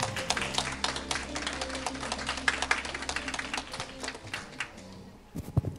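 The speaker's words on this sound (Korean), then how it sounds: "큰 박수 부탁드립니다." Audience applause at a university industry-academia cooperation workshop as a speaker is welcomed, fairly quiet, uneven clapping from a modest crowd with scattered individual claps that thins out toward the end.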